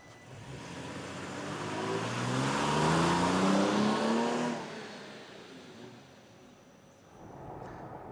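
A truck fitted with a Sprint Booster throttle module pulls away on a road test, engine rising steadily through a rev climb, backing off, then building again, loud and close with no talk.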